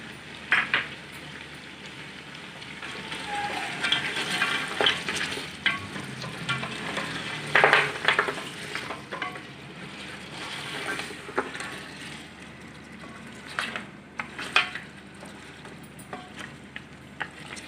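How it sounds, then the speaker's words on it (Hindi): Steady sizzling of mutton paya frying in a pan with green chillies, with scraping and clinking as it is stirred now and then; no voices. "अच्छी तरह से भून लेंगे।"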